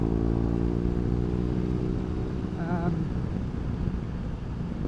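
A motorcycle's exhaust drones loudly and steadily while riding on the road, a continuous low engine rumble with a brief rising whine partway through, blended with rushing air.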